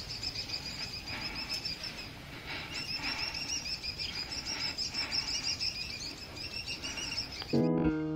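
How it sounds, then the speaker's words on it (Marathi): Birds chirp and tweet continuously in green hills near Kothaligad fort, a bright layered chorus of small calls over quiet open air, ending with a brief louder clatter. "पण जेथे पोचलो तेथे पक्ष्यांचा चिवचिवाट,"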